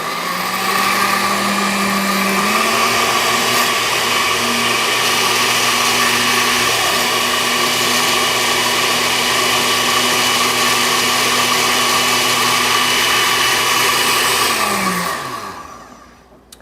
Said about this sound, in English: I start the blender on slow and then work my way up to a clean, smooth puree